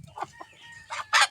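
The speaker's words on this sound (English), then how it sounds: "That's our rooster." Backyard rooster giving short clucks followed by a brief, bright crowing burst at the end, fairly faint and heard alone.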